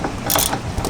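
A 13mm socket wrench ratchets briefly in a few quick clicks while securing a factory bracket to a Rancho lift-kit bracket on a Jeep JL Wrangler, close and without talk.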